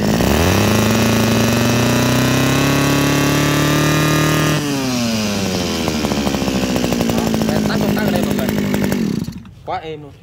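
Mini Japanese water pump engine starting and running: a loud, close, buzzy small-engine drone that holds steady, shifts pitch midway and then cuts off abruptly at the end.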